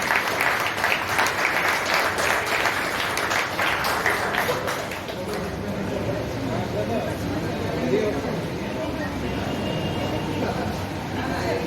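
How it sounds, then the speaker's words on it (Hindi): Applause from the audience at a Hindi Diwas celebration as a singer is welcomed to the stage, dense clapping for about five seconds that gives way to a murmuring crowd and nearby voices. "तालियों की आवाज से भी याद करें।"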